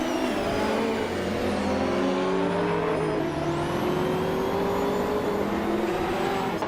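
Race cars including a 1992 Peugeot 905 circle the track, several engines droning and revving at once, with a pitch sweep as one car accelerates past and a steady roar from the others behind.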